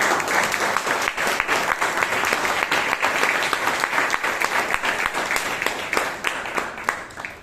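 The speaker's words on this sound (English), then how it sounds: "another huge round of applause for such a wonderful education session" An audience at a Bangalore Toastmasters meeting applauds after an education session: a dense, steady wash of many hands clapping close by, sustained for several seconds without talk.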